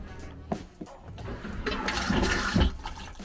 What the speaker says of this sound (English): First toilet flush.